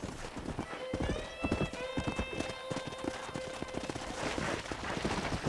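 Horses' hooves clip-clop steadily at a corral in Red Dead Redemption, a brisk irregular rhythm over game ambience with a sustained musical tone and a brief whinny-like sound.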